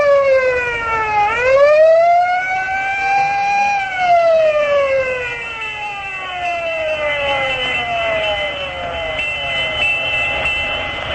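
A loud electronic siren from a 1936 radio broadcast swoops up quickly, then holds and slowly winds down over several seconds, its harmonics ringing clearly with no other sounds.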